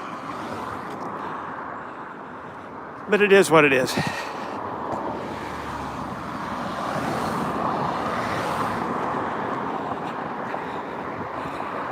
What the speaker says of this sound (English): Really loud traffic here.